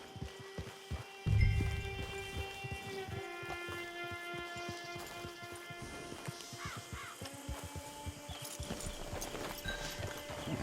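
Horse hoofbeats in Red Dead Redemption 2 clop in a steady, close rhythm over a low hum of game music, with a louder thud near the start and a crow cawing in the background.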